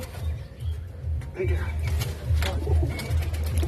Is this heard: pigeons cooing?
yes